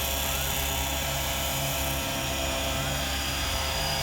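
A radio-controlled AS350 model helicopter throttles up outdoors, its rotor and motor whine loud, close and continuous, with a steady high-pitched buzz and no clear speech.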